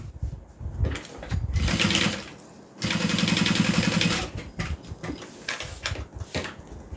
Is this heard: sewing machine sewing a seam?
yes